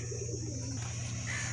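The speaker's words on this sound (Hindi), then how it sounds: "ए सियालकोटी छत वाला कबूतर है जी" A Sialkoti pigeon gives soft, low cooing calls close by, set against a steady background hum.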